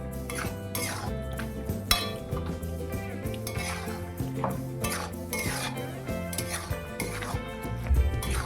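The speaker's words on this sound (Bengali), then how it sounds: "এবার এভাবে একটু ঘেটে দিচ্ছি আমি, তারপর নামিয়ে নেব।" A spoon scrapes and clinks steadily against a cooking pot while boiled vegetables are stirred, making close, busy metallic stirring sounds with no talk over them.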